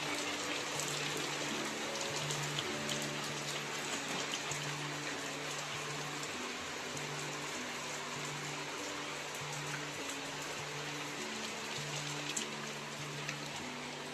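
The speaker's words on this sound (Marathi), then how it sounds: "पाऊस लागायला लागलाय शेवटी आणि आम्हाला सगळं भिजवून टाकला पावसान." Heavy rain pours steadily onto a house in the Konkan countryside, a dense, continuous wash of drops drumming on the roof and surfaces, with a faint low hum running underneath and no voices.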